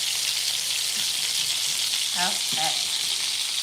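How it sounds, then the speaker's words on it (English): Vegetables with herbs sauteing in a hot pan to blister, giving a steady close sizzle throughout, with a brief spoken word partway through. "Let them saute and kind of blister up."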